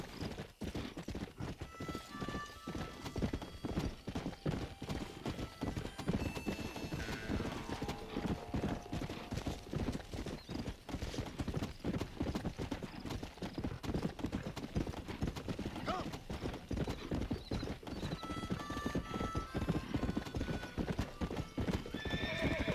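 Horse hooves clip-clopping steadily in the Red Dead Redemption video game, a fast regular rhythm with occasional neighs and faint background music.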